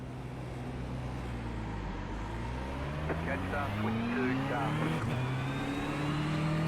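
A DTM race car in iRacing rolls away at a wet Brands Hatch for the formation lap. Its engine drone climbs steadily in pitch through the gears, with other cars audible around it and someone talking over the top.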